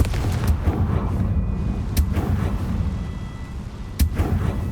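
Booming blasts from the Confringo fire spell in Hogwarts Legacy, with sharp explosive cracks at intervals over a dense, rumbling low-end battle din.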